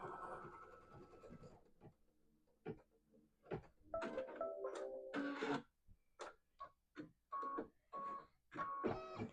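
An embroidery machine stitching a placement line on quilt fabric, giving quick ticking and whirring bursts in an uneven rhythm, close but quiet, after a brief stretch of voice at the start.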